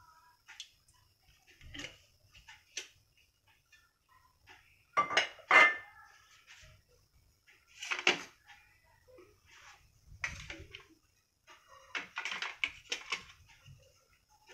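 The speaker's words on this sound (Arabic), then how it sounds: "غادي ناخذ المقله نديرو فيها شويه ديال الزيت" A frying pan is handled and cooking oil poured into it while preparing mushrooms and onion in a home kitchen, giving scattered metallic clinks, clatters and knocks in short bursts, fairly close, with quiet gaps and no talk.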